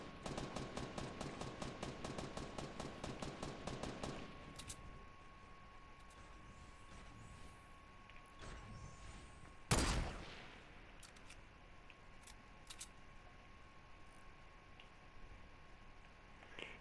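Fortnite gunfire: a fast automatic burst rattles for about four seconds, followed by quieter game ambience and a single sharp loud shot or impact later on, all fairly faint overall.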